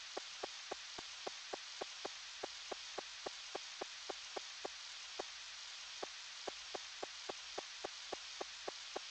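Steady hissing rain falls in the Nintendo 64 farming game Harvest Moon 64, with a regular ticking pulse repeating about three times a second over the constant wash, and no voices.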